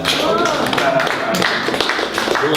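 Scattered clapping from a small audience at a poetry reading in a bookstore, with sharp claps and taps mixed among murmuring voices and brief bits of talk.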